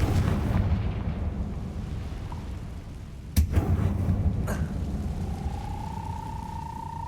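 A Confringo fire spell bursts in a Harry Potter video game: a sharp blast, then a second smaller crack over a low rumbling background, followed by a rising tone.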